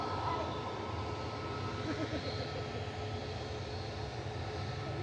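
Malta Air Boeing 737-800, eight years old, taxiing onto the runway at Manchester Airport, a steady moderate engine whine and rumble at some distance, with voices talking over it.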